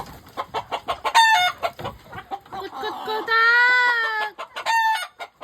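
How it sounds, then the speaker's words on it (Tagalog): Chickens cluck in quick, choppy bursts, close and loud, with a rooster's drawn-out crow rising in the middle and a voice briefly mixed in. "Nadagay manok niyan."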